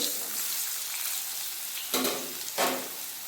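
Potato pieces frying in hot oil with salt and turmeric, a steady close sizzling hiss with two brief louder bursts near the end as the pan is stirred.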